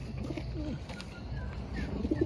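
A racing pigeon coos softly several times, low warbling calls over a quiet background hum with faint chirps.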